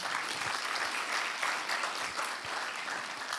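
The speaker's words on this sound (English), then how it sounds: "Let's give him another round of applause." Following a poetry reading, the audience gives a round of applause: steady, fairly soft clapping from a modest crowd that carries on evenly throughout.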